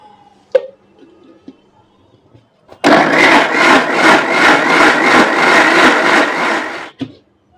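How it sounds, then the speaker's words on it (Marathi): An electric mixer grinder blends cooked mango pulp in a loud, steady whir lasting about four seconds, starting abruptly and cutting off sharply, with faint kitchen clatter before and after. "आता मी मिक्सर काही सेकंद फिरवून घेते"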